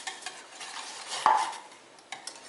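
Stirring Marseille soap flakes into just-boiled water in a pot, a soft swishing with a sharp utensil tap against the pot midway and a lighter clink near the end, close and alone.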